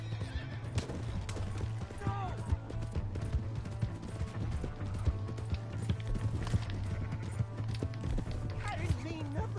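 Horse in the Red Dead Redemption 2 video game, whinnying and clip-clopping hooves under continuous game music and character speech, with a steady mid-level mix of hoofbeats and ambience.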